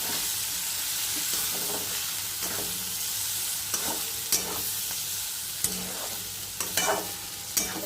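Bitter gourd (karela) sautés in a pan over a low flame, making a continuous soft sizzle broken by intermittent stirring scrapes and clinks. No one speaks.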